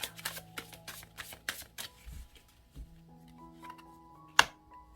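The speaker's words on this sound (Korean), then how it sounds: "5장의 카드를 뽑아볼게요" Tarot cards being shuffled give a run of soft riffling flutters at close range over quiet background music, then a sparse stretch and one sharp card snap near the end.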